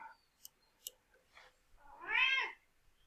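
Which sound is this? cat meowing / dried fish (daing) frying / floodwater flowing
cat meowing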